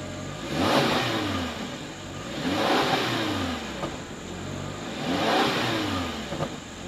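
A Subaru Impreza with a Nameless Performance exhaust revs three times in a regular rhythm, each rise and fall distinct, heard close and fairly loud over a steady idle.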